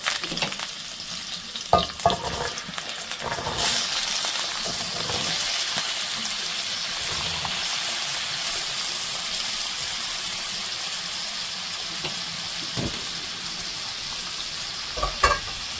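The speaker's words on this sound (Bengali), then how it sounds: "এখন আমি আলুটা একটু ভেজে নেব।" Potatoes fry in a pan while making methi saag, producing a steady loud hiss and sizzle with a few stirring knocks near the start and end, close up with no one talking.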